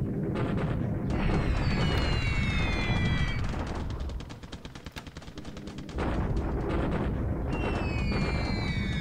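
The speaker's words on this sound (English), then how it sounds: "Bombing more troops in the open." Explosions from bombing troops in the open in the strategy game War in the Pacific make a dense, loud, continuous barrage of booms and gunfire-like cracks. The barrage eases briefly midway, then returns at full force.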